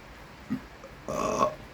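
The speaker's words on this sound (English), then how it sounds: "Excuse me, pepper burp." A single loud burp after eating a very hot pepper, a short low gulp followed by a drawn-out, rasping belch lasting about half a second, close to the mic with no talk.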